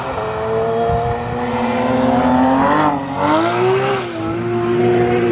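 Loud racing car engines roar and rev past nearby, their pitch rising and falling as they accelerate, with a steady rumble underneath throughout.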